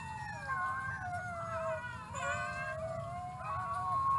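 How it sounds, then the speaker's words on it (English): Wolf cubs howl in overlapping, wavering high cries that rise and fall continuously, with several voices layered together over a steady low background rumble, moderately loud and with no speech. "Wolf cubs."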